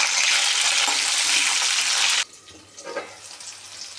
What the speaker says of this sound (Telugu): పచ్చిమిర్చి వేగాయండి.